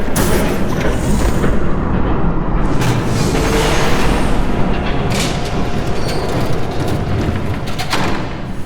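A train rumbles past in a Batman Telltale video game scene, a loud, continuous low roar with clanking and thumping layered through it, steady and close throughout.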